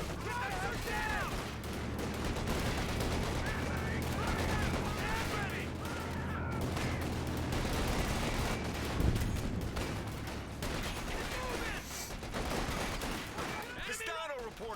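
Sustained battlefield gunfire from Company of Heroes 2 rattles on without pause, with dense volleys of rifle and machine-gun fire and occasional heavier blasts, while soldiers shout over the constant din.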